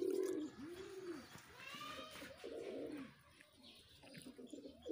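Pigeons of the Neela Kamagar breed give low, rolling coos in repeated swells, close and fairly loud, with a few faint higher chirps behind them and no talking.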